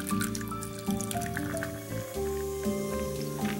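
Kirin Platinum Double happoshu beer from a 350 ml can poured into a glass, giving a wet gurgling, fizzing trickle under background music.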